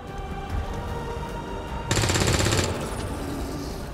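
Gunfire in the video game XCOM 2: War of the Chosen, a short dense burst of rapid shots loud over a low background rumble, lasting under a second before fading back to ambience.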